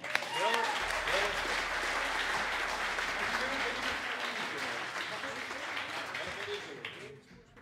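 An audience claps warmly at a jazz concert in Zandvoort. The dense, sustained applause holds steady, a voice talks over it, and it fades away near the end.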